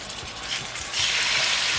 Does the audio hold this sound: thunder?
no